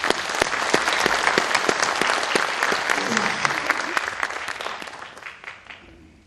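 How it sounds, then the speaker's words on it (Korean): Crowd applause at a Democratic United Party joint campaign rally in Daejeon: dense, loud clapping with sharp individual claps standing out, sustained and then fading toward the end. "뜨거운 박수를 보내드립니다"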